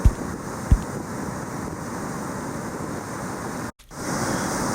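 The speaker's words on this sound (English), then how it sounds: "Here you see the water pouring off the reef benches." Seawater pours off reef benches into surf on a reef walk at Tagachang, making a continuous broad rushing wash with a brief gap near the end, steady and fairly loud.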